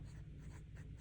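A Sailor fountain pen with a journaler nib scratches across paper in short strokes, soft, close and continuous over a brief moment.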